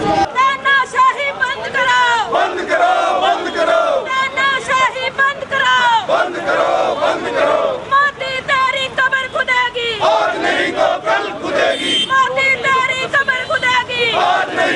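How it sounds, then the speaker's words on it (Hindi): Congress party workers at a protest in Sirsa chant in loud, rhythmic unison, a dense crowd of voices rising and falling with repeated slogan cycles, close and energetic throughout. "काफी अच्छी संख्या में कांग्रेस पार्टी के कार्यकर्ता जो है वो यहाँ पे प्रदर्शन करते हुए दिखाई दे रहे हैं"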